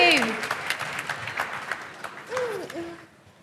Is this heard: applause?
yes